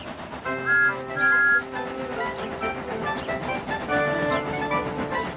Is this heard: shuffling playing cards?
no